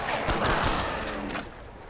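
Gunfire in Call of Duty: Black Ops zombies mode, a dense burst of repeated shots through the first second and a half, tapering off near the end.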